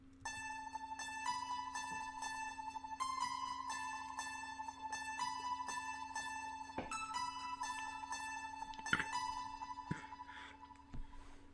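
Harpsichord plays a bouncy melodic pattern treated with chorus, delay and a Guitar Rig 3D mangler effect, sustained bright plucked notes over a steady low drone, loud and continuous with no voices.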